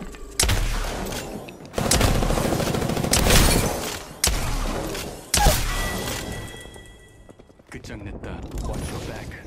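Video game gunfire comes in heavy, loud bursts and volleys with thumping impacts, separated by short gaps and a quieter stretch near the end.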